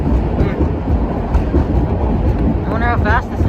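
Interior rumble of an R46 A train on the New York City subway riding a bumpy stretch of track, a steady loud roar throughout with a brief high squeal near the end.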